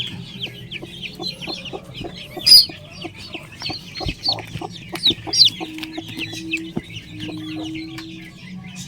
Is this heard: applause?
no